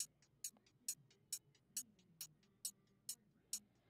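A regular hi-hat, run through an Echo Boy ping-pong delay in FL Studio, ticks in a crisp, clock-like pattern with echoed repeats bouncing between hits, clean and isolated.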